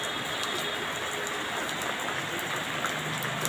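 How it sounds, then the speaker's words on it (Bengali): Heavy rain pouring down in a steady, dense hiss, close and unbroken throughout, with pattering drops on surfaces. "দেখো যে দেখছো বৃষ্টি কত বৃষ্টি হচ্ছে।"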